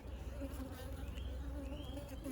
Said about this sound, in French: Il y a déjà des abeilles qui viennent la voir